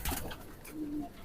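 Pigeons from a flock of about 200 birds of three bloodlines coo softly, one low drawn-out coo standing out amid light background rustle.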